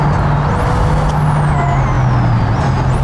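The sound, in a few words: car engine on a highway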